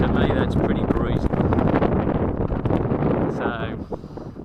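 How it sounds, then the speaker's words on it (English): Strong wind buffets the microphone at an outdoor model glider flying field, a loud continuous rushing roar with gusts throughout. "Look how windy that is."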